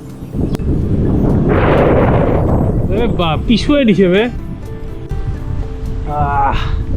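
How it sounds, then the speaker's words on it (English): A strong side wind roars loudly across the microphone of a cyclist on a long endurance road ride. The blasts rumble and buffet throughout, and a voice speaks partway through. "Crazy headwinds. No, not headwinds, side wind."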